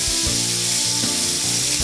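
Chopped onion hitting a hot oily pan for a Bengali fish curry, giving a steady hissing sizzle alongside a few low clunks from the pan.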